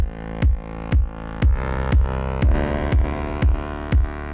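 A thick, distorted, sidechain-compressed synth drone pumps in a steady rhythm, ducking and swelling about twice per second with a punchy kick on each beat.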